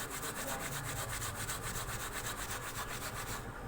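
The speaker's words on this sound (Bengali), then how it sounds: "এই রিঠাকুটা দিয়ে কিন্তু এখন ব্রাশ দিয়ে ঘষে নেব" Steady, rhythmic bristle scrubbing of silver jewellery such as anklets with crushed soapnut lather, a close, continuous rubbing in even strokes that stops near the end, with no talk.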